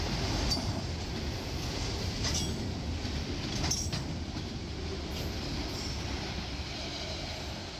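A D&H freight train, 11R, hauling empty racks rolls steadily past with a continuous rumble of wheels on rail, faint squeals and clanks overhead, loud and sustained throughout.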